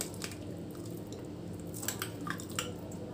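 Wood apple pulp goes into sweetened milk in a pan, giving soft, wet squishing and dripping sounds with a few faint clinks, close and quiet.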